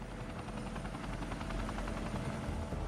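Chinook helicopters dumping water over the Fukushima reactors make a steady, loud rotor roar with a rapid thudding blade pulse throughout, continuous and without voices.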